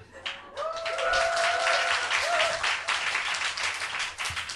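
Audience applause at a Korean political talk show event, dense clapping sustained throughout, with faint overlapping voices or whistle-like tones in the background.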